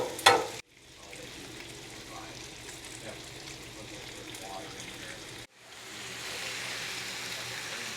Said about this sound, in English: we got a couple pounds of bacon going